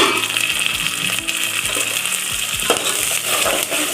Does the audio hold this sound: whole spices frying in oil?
yes